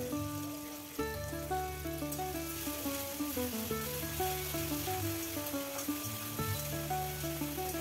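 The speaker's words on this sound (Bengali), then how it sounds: "পেঁয়াজটা একটু নেড়েচেড়ে হালকা ভেজে নেব।" Finely chopped onion fries with whole spices in a pan for an adraki chicken dish, giving a steady close sizzle throughout under prominent background music.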